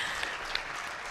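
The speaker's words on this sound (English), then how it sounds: "Let's clap." Audience applause at a New Year's Day reading marathon, a brief burst of steady clapping from a large crowd that stays even throughout.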